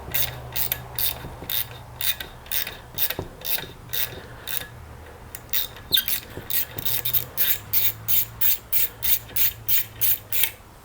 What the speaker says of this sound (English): then I just go in and thread the inside of the seat